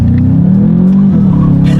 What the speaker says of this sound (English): Let's test out the acceleration along with the paddle shifters, and we'll see how quickly we can get this turbocharged 4-cylinder here up to speed.